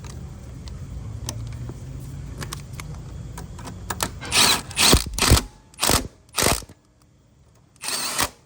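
A ratchet wrench tightens a transmission mount bolt on a Toyota Corolla, giving a few distinct bursts of close clicking after a stretch of quiet mechanical handling.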